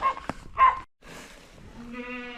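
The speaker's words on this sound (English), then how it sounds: "I have the goat to bottle feed" A goat in a barn bleats in short nasal calls, close by: two quick bleats, then a longer wavering one at the end, with no talk.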